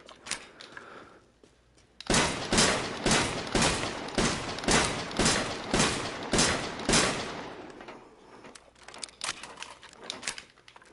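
An assault rifle fires at a VR shooting range in a rapid run of about ten sharp, evenly spaced cracks, then slower mechanical clicks and clacks follow.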